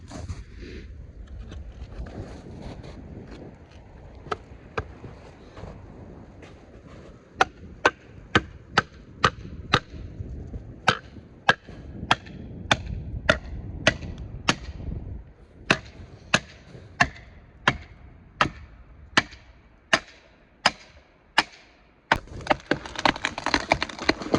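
Sharp, evenly spaced metallic strikes ring out one after another, a hammer driving felling wedges into a hollow tree, with a low rumble of machinery beneath and a few louder blows near the end.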